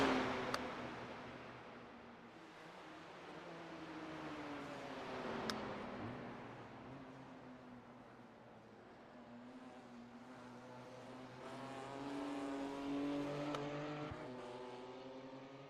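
A BMW race car in the iRacing sim at the Nürburgring 24 Hours, its engine a steady whirring drone with rising and falling pitch as it accelerates and shifts, continuous and fairly close, no talk.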